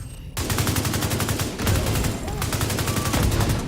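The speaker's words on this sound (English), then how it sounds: "Submachine gun." A submachine gun in The Division 2 fires rapid sustained bursts, loud and close, with a short pause between strings of shots and a brief quiet before the first burst.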